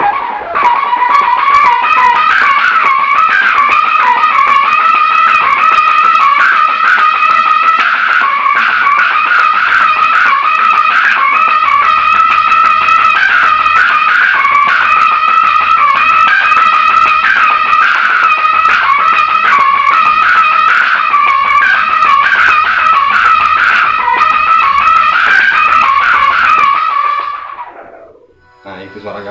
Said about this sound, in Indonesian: Nah, itu suara gambusnya ya.